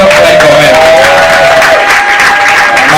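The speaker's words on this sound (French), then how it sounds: "Applaudissons pour elle quand même." Audience applause at a community forum event, steady and loud throughout, with a crowd murmuring under the clapping.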